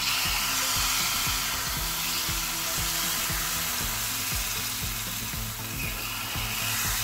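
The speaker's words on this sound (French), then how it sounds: "je laisse cuire mes gnomis." Millet cakes (gnomi) cooking in a shallow mould give a steady, close sizzle of frying with faint crackles and a low repeating rumble underneath, continuous and alone.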